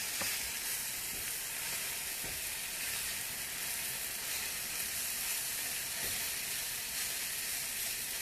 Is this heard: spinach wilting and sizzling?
yes